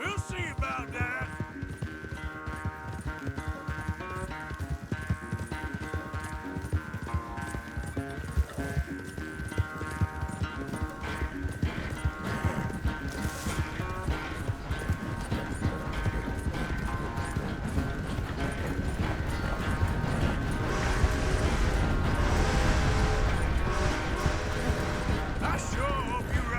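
Horses galloping in a video game race, a steady rapid clip-clop of hooves with music and game sounds running continuously and growing busier near the end.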